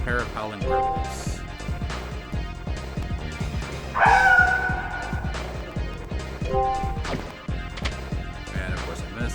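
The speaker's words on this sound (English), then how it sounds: "back to the pair of howling werewolves" A pair of werewolves in a video game give barking, yelping cries and a drawn-out howl amid heavy thuds and crashing combat sounds, with a voice talking over much of it.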